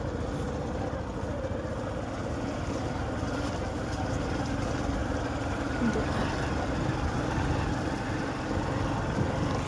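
A tractor drives ahead on a muddy, slippery village road, its engine giving a steady, continuous low rumble throughout at a moderate distance.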